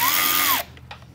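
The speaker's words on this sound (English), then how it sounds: "I know I'm using a power tool" A power tool drives a bolt on a motorcycle clutch, a loud whining spin that drops in pitch and cuts off after half a second, followed by a couple of quiet metallic clicks.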